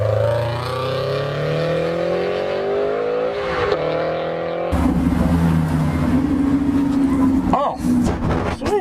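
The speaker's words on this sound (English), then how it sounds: "I can hear the turbo." A Koenigsegg Regera RS Phoenix hypercar at a car show revs its engine, with the turbo audible as a rising whine. The loud engine note climbs and surges, then drops to a rougher burble, with people talking nearby.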